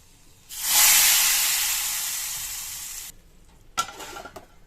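Whole red chillies, hing and Kashmiri chilli powder hit hot oil in a loud tadka sizzle that bursts up suddenly, hisses for about three seconds, then cuts off, followed by a few faint clinks.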